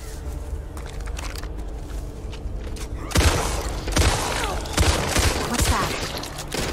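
Pistol fire in Back 4 Blood, a zombie shooter co-op game: several sharp, separate shots ring out loud and close in the second half, over steady game ambience and shuffling movement.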